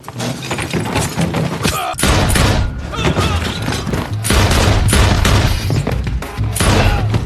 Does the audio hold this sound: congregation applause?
no